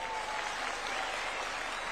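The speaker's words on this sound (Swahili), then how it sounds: "Tumpikie makofi." Steady, dense audience applause at a State House meeting with village elders in Kenya, a constant crowd of clapping hands with no break.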